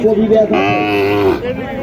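A Sahiwal calf at a crowded cattle market in Naogaon lets out a single drawn-out moo close by, with people talking around it.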